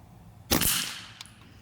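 A Karma SLS .22 PCP air rifle fires an 18-grain pellet, giving a single sharp, loud crack near the start followed by a fading tail, with a faint small tap shortly after.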